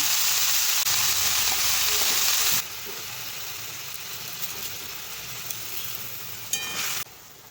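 Red amaranth greens dropped into hot oil tempered with mustard seeds and dried chilli give a steady, close frying sizzle that drops in level partway through, with a brief clatter near the end.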